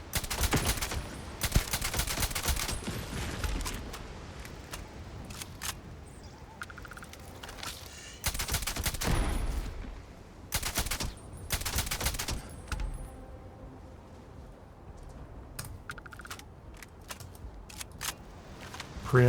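Gunfire in the video game Starfield while shooting critters: bursts of rapid automatic shots come in several loud clusters separated by quieter stretches, with a few isolated single shots.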